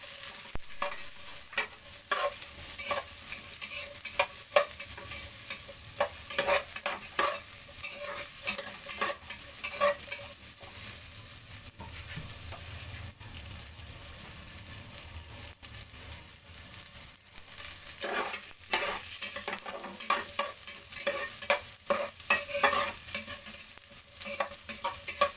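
Onion, garlic and ginger sautéing in a pan for sinigang, a steady close sizzle broken by repeated scraping stirs and clinks of a utensil throughout, with no talking.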